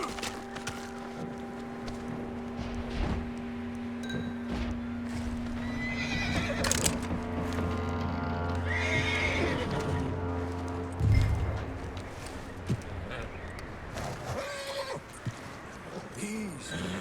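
A horse in the video game Red Dead Redemption 2 whinnies loudly, and its hooves clip-clop nearby under a low, steady ambient hum, with a brief sharp snort partway through.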